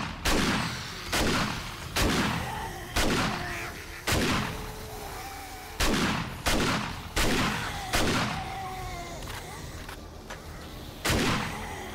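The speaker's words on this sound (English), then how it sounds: "Can't hear from all of the gunshots and mobs." Gunfire in the survival video game 7 Days to Die, about a dozen loud sharp shots at uneven intervals, each with a booming tail, close and dominant.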